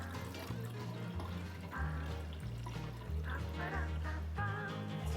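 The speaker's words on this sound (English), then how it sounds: "Then you can actually pour away the water." Cloudy, milky rice-washing water is poured away from a pot, a short burst of splashing and trickling, fairly quiet and close, with no talk.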